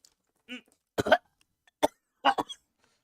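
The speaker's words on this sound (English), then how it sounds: "It's just a cough." A few dry, close coughs come in short bursts separated by brief pauses, with no talking around them.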